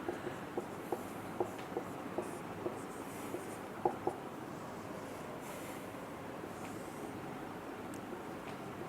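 Equations being written on a board in a mathematical economics lesson, a series of soft taps and scratches in an irregular rhythm over steady background hiss, no voice.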